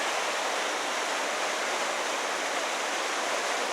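A creek rushes steadily through Johnston Canyon in Banff National Park, heard from directly above the water as a loud, continuous broadband roar with no voices.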